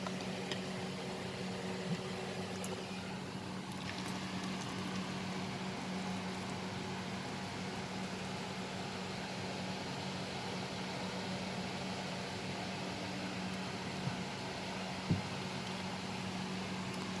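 A kitchen blender runs on mango pulp blended with water for mango juice, giving a steady, fairly quiet motor whir with a low hum that holds unchanged throughout, with no talking.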